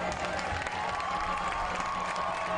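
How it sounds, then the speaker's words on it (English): An Oak Park high school football crowd applauds and cheers steadily from a distance at a game against Excelsior Springs, with scattered shouts in the mix. "Oak Park crowd cheering him on though"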